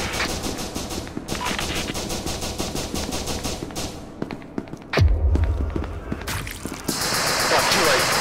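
Rapid automatic gunfire in the video game SCP: Secret Laboratory, sustained bursts of close shots with a pause and a heavy thump midway, then firing resumes, with brief voices around it.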